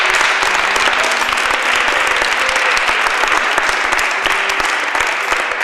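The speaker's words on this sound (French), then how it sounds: "On va leur demander encore d'applaudir pour les téléspectateurs." Sustained, even applause rolls from an audience after a performance by a boys' polyphonic choir, steady and loud throughout with many close, crisp claps and no talk.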